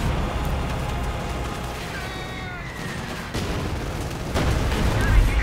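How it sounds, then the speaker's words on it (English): Artillery shells landing in a Company of Heroes 2 World War II match, dull booms and crackling impacts mixed into dense battle noise, with a louder burst of blasts near the end. "Getting a bit hit by his own artillery though."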